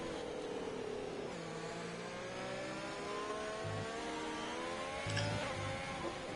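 An F1 car engine in an F1 racing video game, holding a steady high whine with rising pitch sweeps as it accelerates through gears, continuous and fairly quiet with no talk.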